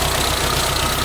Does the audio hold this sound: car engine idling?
yes